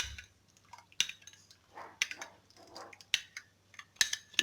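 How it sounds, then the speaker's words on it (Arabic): A utensil stirs a homemade musk deodorant mixture in a container, giving faint, crisp metallic clinks roughly once a second, with soft scraping and swirling between the taps in a quiet room. "دابا انا غادي نخلط مزيان"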